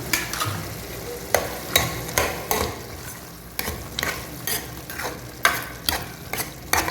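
Yogurt stirred into mutton gravy in a pan: rhythmic scraping strokes of the spoon over a low sizzle, close and fairly loud, no voices.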